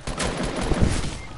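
Rapid bursts of gunfire in Fortnite Battle Royale crackle in a quick fusillade, fairly loud, with no one speaking.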